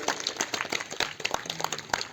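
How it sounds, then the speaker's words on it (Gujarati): An audience in a Visnagar theatre claps to welcome a young man at a special film screening for senior citizens. The individual claps are distinct and scattered, moderately loud and uneven in rhythm. "એમને આપણે તાળીઓના ગડગડાટથી આવકારીશું"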